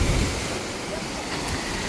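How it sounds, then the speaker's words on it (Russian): Sea waves breaking on a beach at Side, Turkey: a dense, steady wash of surf close by, loud and broadband, mixed with wind buffeting the microphone. "Волну дала послушать."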